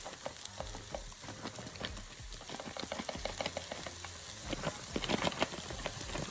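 Corned beef and cabbage sautéing in a pan: soft crackling sizzle with scattered clicks and scraping taps as the food is stirred and folded, fairly quiet and close.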